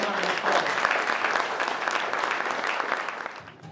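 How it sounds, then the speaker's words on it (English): Warm applause from an audience at a mosque gathering welcoming hip-hop artist Chuck D to speak, a dense steady clapping that holds for several seconds and then thins out near the end. "let's bring up our dearly beloved brother Chuck D with a warm round of applause"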